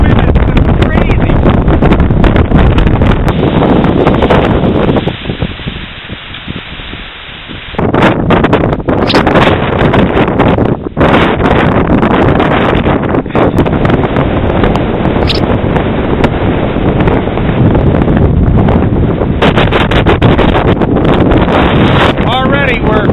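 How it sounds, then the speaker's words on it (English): Strong wind on a beach roars across the microphone with loud, constant buffeting that barely lets up, easing only for a moment partway through. "The wind is crazy."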